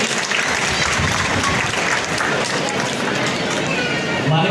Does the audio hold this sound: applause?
yes